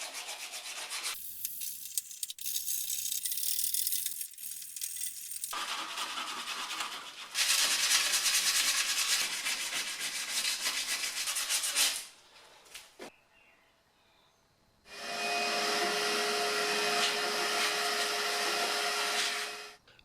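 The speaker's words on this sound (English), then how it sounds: "the filler was ready to be sanded back" Body filler being sanded in the engine bay of a BMW E30 325 Touring under restoration, harsh abrasive rubbing in long continuous bursts with short pauses between, close and loud, no talking.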